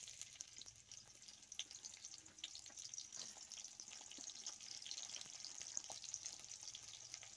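Chopped onion frying in hot soybean oil gives a steady, close hiss of sizzling that holds at an even level throughout, with no voices.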